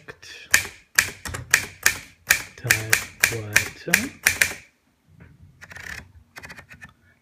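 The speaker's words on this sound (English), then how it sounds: "This is a Triumph Perfect typewriter." A Triumph Perfect typewriter struck in a quick run of sharp key clacks, about a dozen close, crisp hits with bright ringing tails, then a pause and a few softer taps, with a voice speaking briefly over it.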